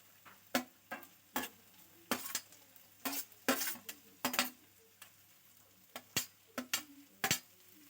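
Capsicum, carrot and cabbage for veg noodles are stirred and tossed in a pan, making a series of sharp utensil scrapes and clacks in an irregular rhythm over a faint sizzle, close and without talk.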